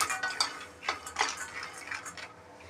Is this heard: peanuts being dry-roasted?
yes